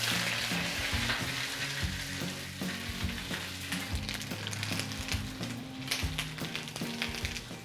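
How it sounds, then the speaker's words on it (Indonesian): Green beans are stir-fried with spices in a pan, a loud crackling sizzle with rhythmic scraping and clattering of a spatula stirring against the pan, no one speaking. "Kita aduk sebentar aja sampai bumbunya rata, udah gitu langsung diangkat."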